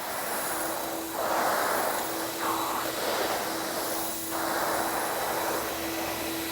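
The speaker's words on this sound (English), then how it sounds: "I can hear the sand being sucked up into the vacuum." A vacuum sucks residual sand off a polished self-leveling concrete overlay, making a steady whooshing roar that swells loudly in bursts as the nozzle moves over the grit, with a constant motor hum underneath and no talking.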